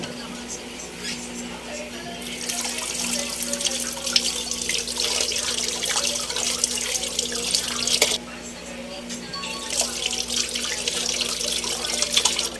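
Bitter gourd is washed under a running tap, a steady rush of water with splashing and occasional drips, a brief pause midway before the flow resumes.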